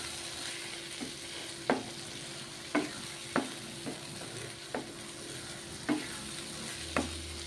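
Eggplant masala simmering in a pan over a low flame, with a soft steady sizzle and a few faint, evenly spaced clicks of a spoon stirring. No one speaks.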